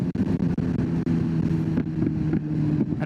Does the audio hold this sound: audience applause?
no